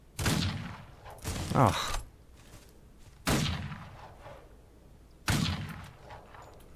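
Gunfire from the Old West video game Outlaws: four loud, sharp gunshots spaced a second or two apart, each with a ringing, echoing tail, plus a brief grunt from a man.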